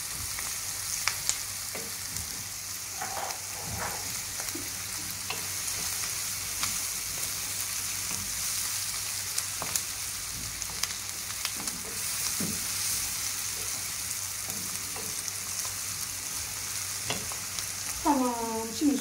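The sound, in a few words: onions frying in a pan until golden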